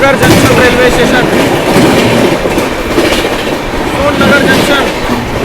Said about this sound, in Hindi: क्या ट्रैक साउंड आ रहा है, बाप रे बाप।